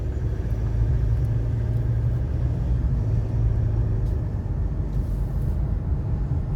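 A car being driven onto a ferry pontoon for a river crossing gives a steady, loud, low engine rumble that carries on without a break and has no voices over it.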